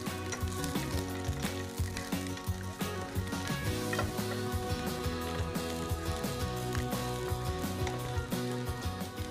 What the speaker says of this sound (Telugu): సో వెల్లుల్లి అండ్ ఆనియన్స్ చక్కగా స్టర్ ఫ్రై అవ్వాలి.